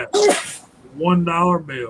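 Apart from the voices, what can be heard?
sneeze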